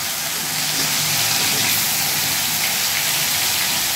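Onion and garlic paste frying in a pan of hot oil with chillies for chicken rezala, a steady loud sizzle and hiss like rain that holds constant throughout, no voices.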